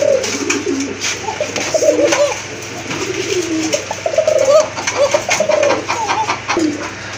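Pigeons cooing repeatedly in a loft of black-and-white big-size pigeons kept for sale, with overlapping rolling coos from several birds close by over a steady low hum.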